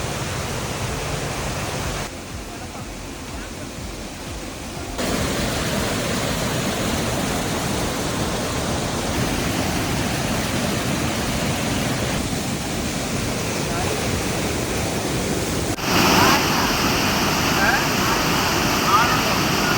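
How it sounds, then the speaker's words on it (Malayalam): Small waterfall where people bathe: a steady, broadband rush of falling water fills the whole stretch, loud and continuous, with slight shifts in level and no clear talk over it. "ഒരു ചെറിയ വെള്ളച്ചാട്ടത്തിൽ ഇറങ്ങിയാണ് ഞങ്ങൾ കുളിച്ചത്"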